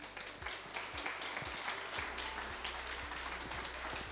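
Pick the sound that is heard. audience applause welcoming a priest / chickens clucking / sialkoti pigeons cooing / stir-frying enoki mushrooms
audience applause welcoming a priest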